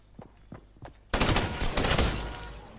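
Gunfire in Fortnite Battle Royale: a few separate footstep-like thuds, then a sudden loud burst of rapid shots that rolls on and slowly fades.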